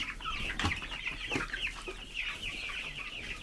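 A baby chick peeping in a brooder on a small farm, with high, thin cheeping calls repeated close by, joined by a few clucks and a soft farmyard background.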